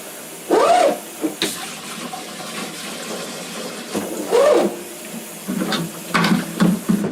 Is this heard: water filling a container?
yes